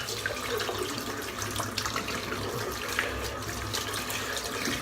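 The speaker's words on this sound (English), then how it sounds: "while that's drying in, we shall rinse the brush" A shaving brush is rinsed under a running tap, with a continuous splashing stream of water close by and small irregular spatters throughout and no voices.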